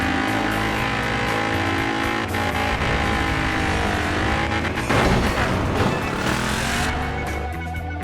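BMW Isetta in the video game Forza Horizon 4, a loud, continuous engine drone under acceleration with shifting pitch, a rougher burst around the fifth second, no talking.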